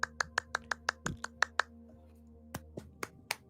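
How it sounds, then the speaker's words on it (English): Two people clap in a small quiet room, a quick run of about ten sharp, evenly spaced claps followed by a few slower, scattered ones, close and crisp against near silence. "Far less impressive when there's only 2 of us clapping."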